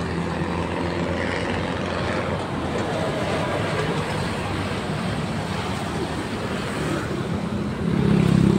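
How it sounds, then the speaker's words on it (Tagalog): Heavy road traffic on a busy highway toward Commonwealth, a steady dense rumble of many cars and trucks rolling past nearby, with a louder vehicle swelling close at the end. "Daming mga sasakyan."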